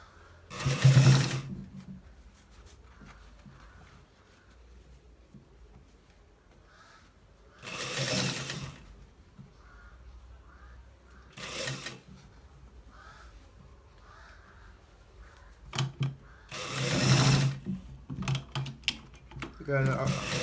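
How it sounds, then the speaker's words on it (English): A sewing machine stitches a shirt collar in four separate loud bursts, each lasting about a second, with quiet gaps between them. "We are stitching it to the end part"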